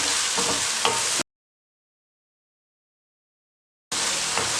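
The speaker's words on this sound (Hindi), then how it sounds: "चंद सेकंड के लिए फ्राई करना है आपने प्याज को।" Green onions sizzle briefly in a hot pan for a turnip and carrot pickle-style sabzi, a steady hissing fry cut by a silent gap of a few seconds before the sizzle resumes.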